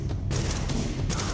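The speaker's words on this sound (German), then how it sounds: "Ja, ich schieße auf den Tank" Short burst of rapid automatic gunfire in the video game The Division, loud and close, with dense repeated shots crackling over a low rumble.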